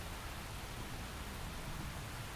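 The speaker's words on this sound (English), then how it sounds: "The rain's starting to let up, just in time for sunrise." Rain falling in the open-world game Xenoblade Chronicles X, a soft, even hiss of steady rainfall heard alone at a low, constant level.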